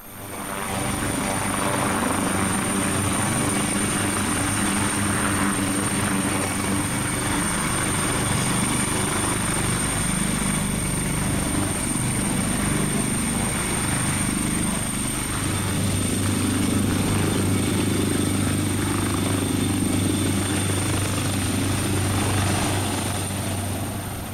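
A helicopter on a rescue mission at 15,000 feet flies steadily nearby, its loud rotor and engine roar continuous throughout with no voices.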